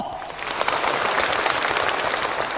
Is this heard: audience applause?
yes